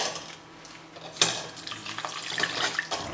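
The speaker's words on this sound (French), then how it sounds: "Je vais maintenant filtrer entièrement mon bouillon." Homemade chicken broth is poured through a strainer with gauze, a sudden splash followed by a steady trickling, sloshing pour of liquid nearby, with no talking.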